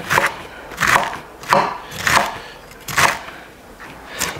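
A knife chops beet greens on a cutting board in steady, evenly spaced thuds, about seven crisp strikes at a relaxed rhythm, close and alone without talk.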